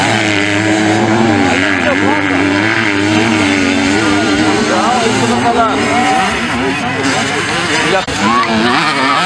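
An 85cc motocross motorcycle at a Paraguayan national velocross race revs loud and near, its engine note rising and falling continuously and buzzing steadily over crowd noise.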